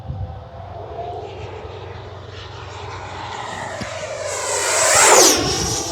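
FMS Avanti 90mm electric ducted-fan RC jet streaks past fast and close, its turbine-like whine building over steady wind and background hum into a loud rising-and-falling whoosh near the end.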